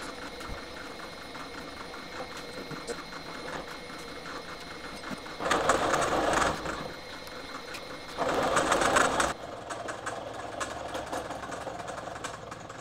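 Milling machine with a slitting saw cutting metal on a dividing head, a steady mechanical hum that swells into two louder cutting passes of a few seconds each before settling back.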